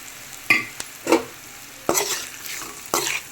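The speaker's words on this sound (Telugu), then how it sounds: "ఇందులో ఇప్పుడు మనం ఫ్రై చేసి పెట్టుకున్న ఎగ్స్ వేస్తాం" Fried eggs are stirred into garlic masala frying in a pan, giving a steady sizzle broken by a few sharp scraping stirs, close up with no talking.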